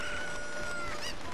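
Chickens clucking in Zelda: Ocarina of Time, a short burst of video-game fowl calls with a crowing-like tone, heard alone at moderate loudness.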